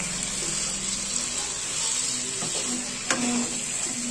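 Aloo matar sabzi is stirred in a pan, a soft continuous sizzle with light scrapes and one sharper clink of the spoon against the metal.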